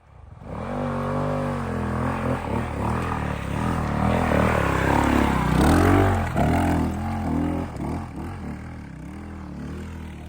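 A 450cc dirt bike, a KOVE 450 Rally or KTM 450 XCF-W, is ridden hard through mud. The engine note rises and falls with repeated revving and gear changes, loud and close throughout.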